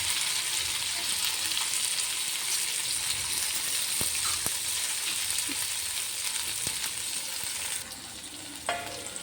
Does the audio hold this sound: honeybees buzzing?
no